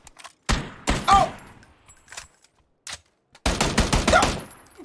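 PUBG gunfire crackles in two loud, close automatic bursts separated by a near-silent pause, with a few isolated shots between them.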